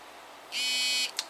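An AirVape X vaporizer gives a steady high-pitched buzz for about half a second to signal it is ready, followed by a short second blip, close and clear over quiet room hiss.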